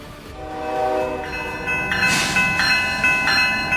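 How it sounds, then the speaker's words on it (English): An ice- and snow-encrusted freight train rolls steadily onward, its horn sounding in sustained harmonic blasts over a continuous rumble and rail noise, fairly loud and close, with no talk. "Ice and snow completely covered this train, transforming it into a moving block of frost that kept pushing forward"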